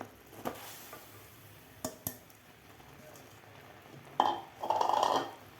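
A ground soaked chana dal mixture is stirred into sugar syrup in a pan off the heat for laddoos: a few sharp scrapes and clinks, then a louder rustling stir near the end, all fairly quiet.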